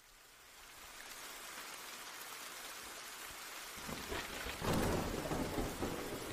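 A thunderstorm in the My Dear Frankenstein visual novel game: steady rain hiss builds, then a low thunder rumble swells in and rolls on under the downpour, with no voices.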